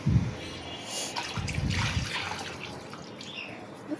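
Water pours into a cooking spice mixture in a pan for a sour lentil and egg curry, giving a brief trickling splash that quickly fades to a soft background hiss.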